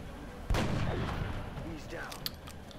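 A single sharp gunshot from a headshot in the video game XCOM Enemy Within, a loud crack followed by a fading rumbling tail and faint in-game sounds.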